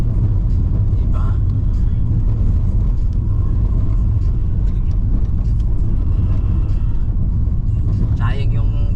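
A car drives a mountain road in Nueva Vizcaya, heard as a continuous, loud, low rumble of engine and tires from inside the vehicle.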